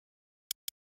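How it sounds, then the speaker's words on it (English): Two short, crisp hi-hat hits from a drum and bass sample, the second following quickly after the first, bright and isolated against silence. "you take one hat, which sounds like this"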